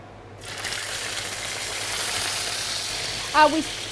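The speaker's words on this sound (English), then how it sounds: "So we're going to seal the meat off in a hot pan." Meat for a pot roast hits a hot pan after a moment of quiet, breaking into a loud, steady sizzle that holds; a brief voice sounds near the end.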